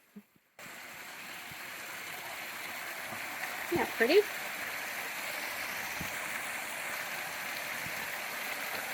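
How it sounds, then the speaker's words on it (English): A small waterfall beside a garden path at Inniswood Metro Gardens in Ohio gives a faint, steady rush of flowing water, with a brief spoken remark near the start. "It has a nice little waterfall here coming up."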